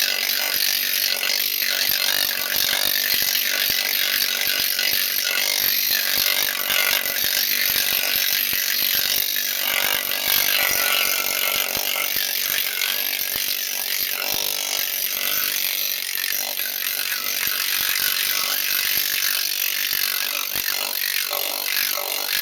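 A planishing machine works sheet metal in a steady, continuous mechanical racket, a dense fast hammering chatter that stays loud and even throughout with no talking.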